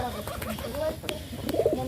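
Domestic pigeons in a courtyard give soft repeated coos at close range, with a faint voice in the background.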